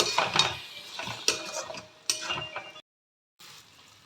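Potatoes and mutton stirred and fried together in a pot, with scraping, clanking spoon-on-metal knocks and light sizzling up close. A brief silent gap comes before the stirring resumes, and no one talks.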